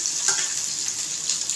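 Chopped onion frying in oil in a pan while making Maharashtrian pithla, a steady close hiss of sizzling with a few brief stirring scrapes.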